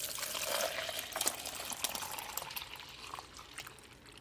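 Milk pours steadily into an old plastic yogurt container, a continuous liquid rush with a faint rising fill tone, close and moderately quiet, with no voices.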